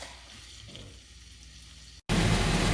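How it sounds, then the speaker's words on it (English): Hot link sausages brown in a pan over medium-high heat, a steady close sizzle with light stirring, which cuts out briefly and returns louder and denser. "we are going to let this hot links brown"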